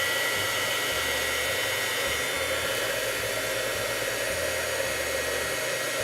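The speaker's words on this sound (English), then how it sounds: "We'll hit this real quick with a heat gun." A heat gun blows a steady, loud whooshing hiss over gold embossing powder on a card, holding even and unbroken with a low hum beneath and nothing else heard.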